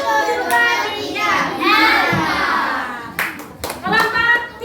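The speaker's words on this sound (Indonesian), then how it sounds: "Tepuk tangan." Classroom of students clapping hands together in a lesson, several bursts of clapping mixed with children's voices and a teacher speaking, close and fairly loud.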